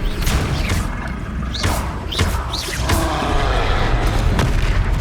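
Confringo fire spells exploding in the Hogwarts Legacy video game: a run of loud booming blasts with rising whistling bursts over a constant rumbling bed, with no talking.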